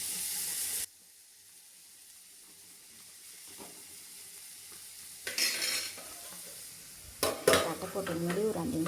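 Food cooks over a low flame in a pan covered with a plate, giving a faint, steady sizzle close by. A few short metallic clanks and scrapes of utensils break through near the end.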